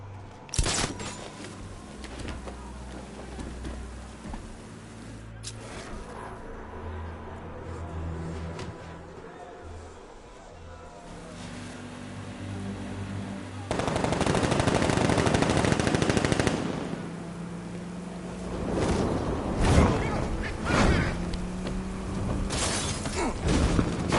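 A tank driven by Batman fires in the video game Batman Arkham Knight, with loud bursts of rapid gunfire and impacts over a rumbling engine, a sustained barrage in the middle and sharp blasts toward the end.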